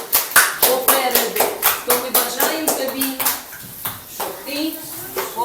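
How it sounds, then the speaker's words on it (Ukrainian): Children in a school class clap their hands together in a quick, rhythmic series of sharp claps, close by, with voices mixed in and the claps thinning toward the end. "Плескаємо ручки, щоб втомилися"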